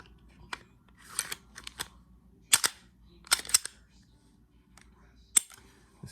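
A Canik TP9SF pistol is dry-fired and handled, giving several sharp, close mechanical clicks at irregular intervals over a quiet background.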